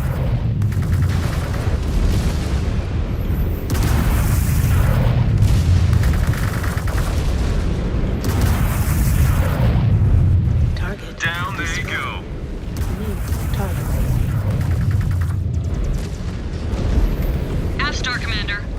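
Incoming missiles slam into a mech in Mechwarrior 5: Clans, a long run of heavy rumbling booms and crackling impacts, with a brief lull midway, then more blasts under radio-style voices.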